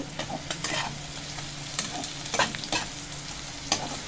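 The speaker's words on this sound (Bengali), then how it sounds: "একটু নুন দিয়ে দেবো নুন আবার নাড়াচাড়া দেব" A spoon stirring khar kol leaf paste with salt as it fries in a pan, a steady sizzle broken by several sharp scraping strokes against the metal.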